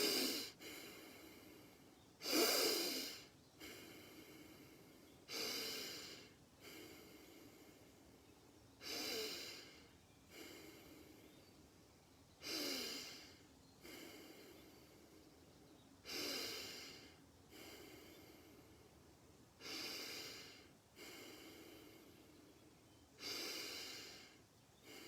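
Slow, deep full breaths in a calm breathing exercise, about ten audible inhale-exhale cycles at a steady rhythm, close and fairly quiet.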